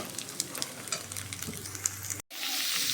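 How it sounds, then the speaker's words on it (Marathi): Spice masala with peanuts roasting in a pan, a soft continuous sizzle with light crackles and scraping stirs, quiet and close, broken briefly by a short gap. "बघा आता मसाला भाजून घेत आहे मी."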